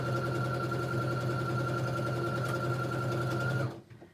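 A sewing machine runs steadily, stitching a seam on a simple reversible tote bag with a whirring, rapid mechanical hum that stops abruptly near the end.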